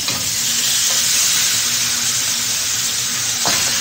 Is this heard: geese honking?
no